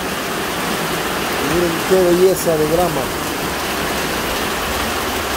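A heavy rainstorm pours over grassy farmland in Chalatenango, a steady, dense hiss of rainfall that continues throughout while someone speaks briefly over it.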